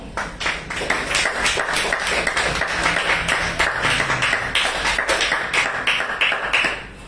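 A church congregation claps together in strong, steady rhythmic beats, loud and close, keeping an even pulse throughout before easing off at the end.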